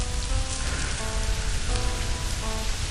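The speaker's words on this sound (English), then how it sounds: "It's a rainy night." Steady rain on a rainy night patters densely and continuously on surfaces, a constant hiss with faint tonal sounds from a soundtrack underneath, and no talk.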